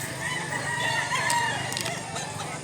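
A rooster crows nearby, a drawn-out cock-a-doodle-doo rising over steady background noise, with a few short clucks from other fowl.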